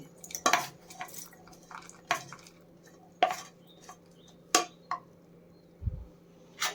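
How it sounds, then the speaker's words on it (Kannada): Cooled borage leaf chutney ingredients being put into a mixer jar, with a handful of sharp metallic clanks and scrapes spaced a second or so apart against a quiet kitchen background. "ಈಗ ಇದನ್ನು ನಾನು ಮಿಕ್ಸಿ ಜಾರ್ಗೆ ಹಾಕ್ಕೊತಾ ಇದ್ದೀನಿ"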